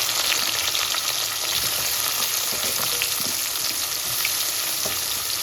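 Onions hit hot oil already crackling with mustard seeds and fennel, giving a dense, continuous sizzle with scattered pops and crackles, close and steady with no talking.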